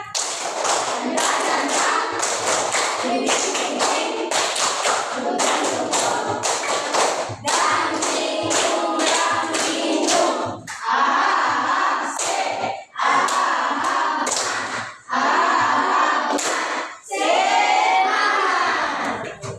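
A classroom of children performs a rhythmic group clap, bursts of quick claps and thumps in patterned sequences with brief pauses between rounds, and young voices chant along.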